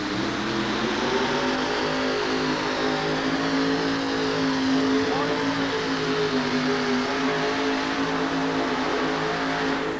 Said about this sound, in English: The big blower sitting there pumping air into the engine. This is an alcohol-injected motor.